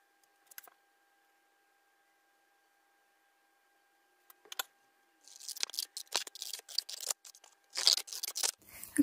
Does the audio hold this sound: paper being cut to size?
yes